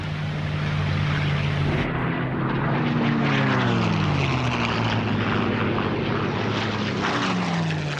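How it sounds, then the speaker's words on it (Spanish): American fighter planes in World War II intercepting Japanese aircraft in a large air battle: loud, continuous propeller-engine drone whose pitch sweeps up and down as planes pass close by, with no voices. "450 cazas despegaron de inmediato para interceptar a los aviones japoneses"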